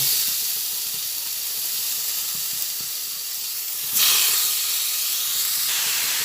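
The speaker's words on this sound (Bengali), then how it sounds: "সব একসঙ্গে ভেজে নিতে নিতেই এর মধ্যে যে ধুয়ে রেখেছিলাম মাংসটা সে মাংসটা এক এক করে দিয়ে দিচ্ছি" Chicken pieces dropped into frying spices for a chicken dum pukht, giving a loud, steady, close sizzling hiss that swells sharply partway through, with no talk.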